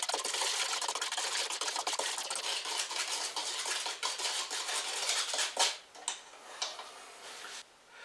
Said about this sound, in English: Stirring the pumpkin.